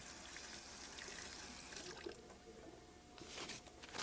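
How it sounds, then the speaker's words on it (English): Running water rinses chips off a cut denture base during a posterior palatal seal procedure, a steady trickling flow that continues throughout, with brief splashes near the end. "we can rinse the chips off of it"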